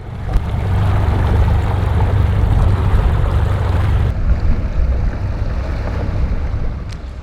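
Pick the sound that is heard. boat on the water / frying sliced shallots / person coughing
boat on the water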